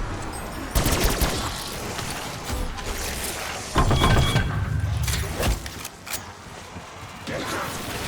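Sniper rifle fire in Black Ops 6 Zombies, with sharp shots near the start and around the middle over a busy game mix, as a player talks throughout.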